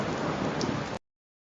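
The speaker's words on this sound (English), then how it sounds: "As the drops grow in size, they become heavy and fall on earth as rain." Steady rain falls across the whole short stretch, a dense even hiss of drops at close range with no voices, cutting off abruptly.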